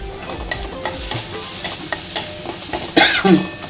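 Green chilies and turmeric fry in a pan for a spring onion vegetable dish, a steady sizzle with a spoon stirring and scraping in soft repeated strokes close by.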